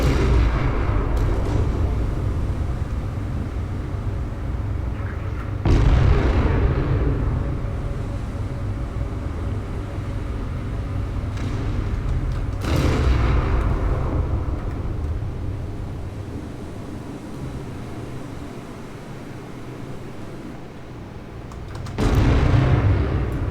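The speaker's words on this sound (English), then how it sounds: "Whoa, big explosions there." Heavy booming explosions from a naval battleship video game burst out several times over a constant low rumble, each blast sharp and loud before fading back into the roar.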